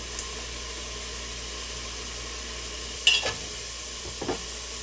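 Leeks seasoned with thyme, garlic salt and black pepper sweat in a pot under a soft, steady sizzle, broken by a couple of brief scraping stirs.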